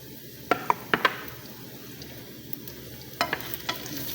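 Garlic sautéing in a pan for callos, a low background sizzle broken by sharp clinks and scrapes of a utensil stirring, close by.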